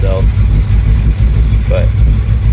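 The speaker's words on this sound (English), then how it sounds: "It has the choke still kicked in right now, and it's probably a little warm for choke, so it's kind of coughing over itself." A 1977 Ford F250 Super Cab engine idles roughly on choke with a loud, low, uneven chugging rumble and occasional coughing stumbles, as a voice talks over it.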